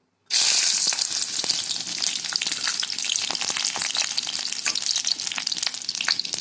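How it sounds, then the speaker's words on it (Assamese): A sudden loud hiss as sliced garlic drops into hot oil, then a steady close sizzle with sharp crackles throughout. "নহৰুকেইটা মই ফালি ফালি লৈছিলোঁ আৰু এতিয়া তেলতে দি দিলোঁ"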